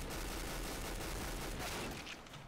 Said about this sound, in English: This LMG, dude, I can never get a kill with it.